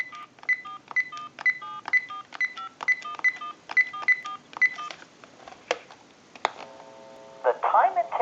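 A Sony SPP-ER101 cordless phone dials out in a steady run of DTMF keypad tones, each a short two-note beep at an even pace. A brief ring and a recorded voice answering follow near the end.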